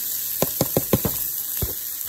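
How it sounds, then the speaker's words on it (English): Corn cooks in a hot pan with a steady hiss of sizzling. A quick run of about five stirring scrapes and taps comes close by, then one or two more, with no voices. "So we're going to saute these and we're going to come back with our corn"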